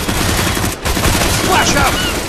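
A burst of rapid gunfire rattles through a CS:GO match, with dense overlapping shots filling the clip and a brief gap near the start before the firing resumes.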